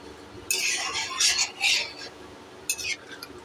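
A spoon stirs creamy chicken kofta curry in a pan, giving bursts of soft scraping and clinking in uneven strokes, with a short pause before one last quick stir, over a quiet background.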